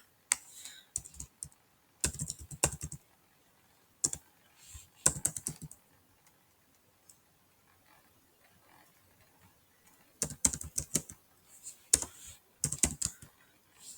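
Typing on a computer keyboard while filling in a government scheme application form online, close and quiet, in irregular bursts of rapid key clicks separated by pauses of near silence.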